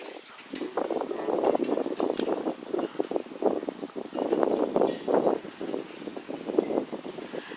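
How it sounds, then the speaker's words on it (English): A team of draft horses works a food plot outdoors, hooves thudding in a steady rhythm with occasional harness clinks and rustling, fairly close. "Working my food plot with a team of horses, Bill and Ace."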